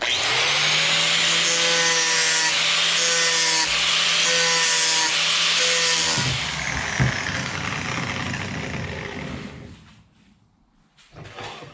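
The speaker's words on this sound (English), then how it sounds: "I'm going to get my grinder out and grind that to shape." A grinder shapes the wooden handle of a custom pizza peel, giving a loud, steady whine with a rough grinding edge for about six seconds before it spins down and fades into quieter scraping.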